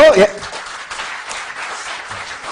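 Audience applause at a televised Korean political talk event, a burst of clapping that fades quickly under a speaking voice.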